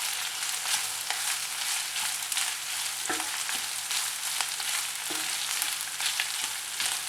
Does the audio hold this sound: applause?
no